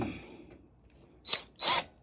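A power drill bores a pilot hole in metal on a Honda CL350/CB350 motorcycle during restoration, two short close bursts of whirring after a quiet pause.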